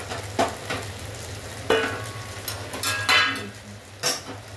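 Hot water poured into a pan of frying ground spices such as cumin, bursting into sharp hisses and sputters, with scraping and clinks of a spoon against the pan in uneven bursts.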